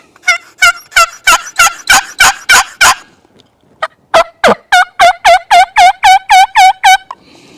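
A box call imitating turkey hen yelps in a series of loud, close, evenly spaced raspy notes, one run of about eight yelps, a brief pause, then a second longer run, with no talk.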